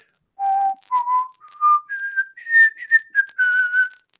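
A person whistles a short tune of clear sustained notes, climbing step by step, then a quicker run of tones, close and alone.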